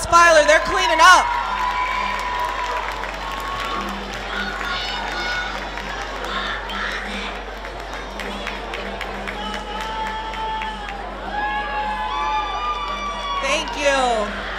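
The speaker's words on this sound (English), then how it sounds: "GSA, one more round of applause" Audience at a Math Olympics school awards ceremony applauding and cheering, a steady wash of clapping with whoops and children's shouts, a loud burst at the start and another swell near the end, with voices mixed in.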